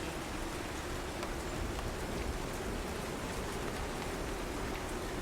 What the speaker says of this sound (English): Sound of rain is meshing very well with the outside of rain.